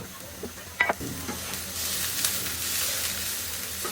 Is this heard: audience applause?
no